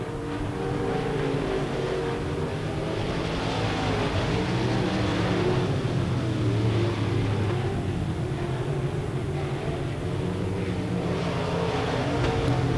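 IMCA modified race cars roar around a dirt oval at RPM Speedway on the final lap, a steady dense engine drone at constant loudness throughout with no clear pass-bys.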